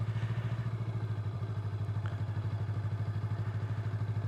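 A motorcycle engine runs at low speed during beginner U-turn and figure-8 practice, a steady close rumbling putter with an even pulsing rhythm throughout and no talk.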